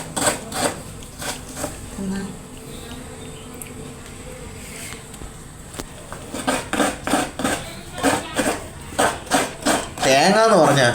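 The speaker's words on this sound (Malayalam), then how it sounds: "തേങ്ങ ചിരവുന്നതാ ഈ ഒരു സൗണ്ട് കേട്ട് കഴിഞ്ഞാൽ ഈ ആള് അവിടെ ഓടി എത്തിയിരിക്കും" Rhythmic scraping of a coconut being grated on a hand coconut scraper, a steady series of short rasping strokes up close, with a person talking over parts of it.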